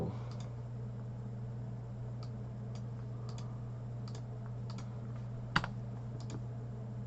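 Soft, quick clicks of typing on a computer keyboard come in short irregular bursts over a steady low hum, with one sharper tap partway through.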